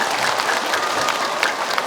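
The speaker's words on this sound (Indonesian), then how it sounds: "Yuk tepuk tangan" A studio audience at an Indonesian religious talk show applauds, a dense, even wash of clapping lasting a couple of seconds with no talk over it.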